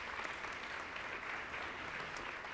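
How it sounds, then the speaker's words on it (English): Faint, continuous clapping from an audience at a school district's State of Our Schools event, a soft even roar heard from a distance with no clear voices. "Let's give them a big round of applause again."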